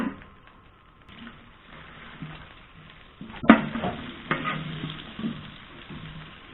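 Olive oil and butter sizzling in a pan as a fish soup is started, a soft steady crackle with scattered spatters and one sharp burst partway through, fairly faint and close, with no talking.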